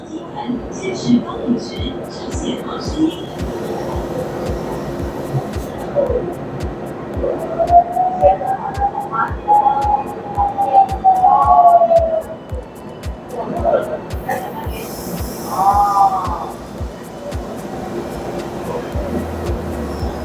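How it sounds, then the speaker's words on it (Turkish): A hole-drilling machine runs on a factory floor in Taiwan, a steady low hum with a regular throbbing pulse and a rising then falling whine midway, while people talk over it. "Bu da diğer bir delik açma makinesi."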